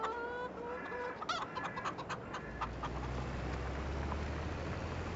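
Chickens in the farming game Farming Simulator 22 cluck and squawk in short bursts at first, then give way to a steady low hum and diffuse noise.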